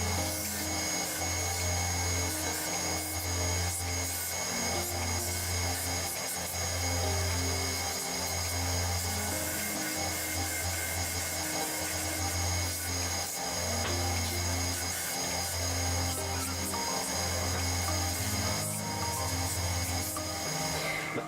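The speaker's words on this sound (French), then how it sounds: "je vais les poncer pour rendre ça beaucoup plus propre" Wooden slides for a car cane rest being hand-sanded, a steady rhythmic rasping of abrasive strokes back and forth, close and continuous throughout with no talk.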